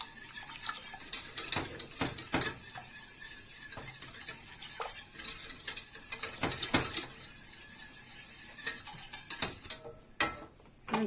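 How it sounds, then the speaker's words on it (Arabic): Milk and flour stirred in a pot with a spoon for a coffee and chocolate halwa, giving repeated scraping strokes against the pot in an uneven rhythm, close and fairly quiet. "غادي نحركها البنات الحليب بعدا باش ما يتدقسلياش داك الطحين"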